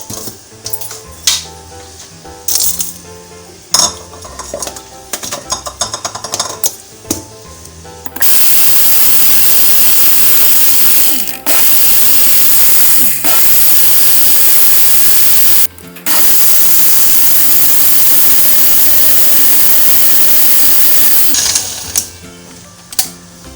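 An electric blender whirs through mango syrup made with mango essence, colour and black salt. Clattering comes first, then a loud, steady, sustained roar with one brief pause before it stops, and more clatter follows.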